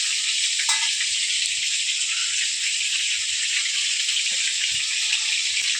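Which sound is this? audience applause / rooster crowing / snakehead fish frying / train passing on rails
snakehead fish frying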